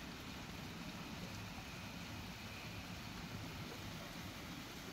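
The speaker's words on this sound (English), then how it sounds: "It's still raining" Steady rain falls at night outside a house, a dense, even hiss with a low rumble underneath and no voices.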